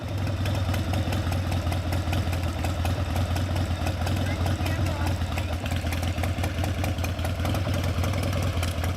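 A burned-up motorcycle's engine idles close by with a steady, loud, low throbbing rumble that never drops out, while people talk over it.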